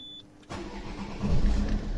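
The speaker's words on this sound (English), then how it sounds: "what we're gonna do now, we're gonna start the engine." After a brief dashboard beep, a Citroen C4 Picasso engine cranks and fires, then runs on at a close, steady idle.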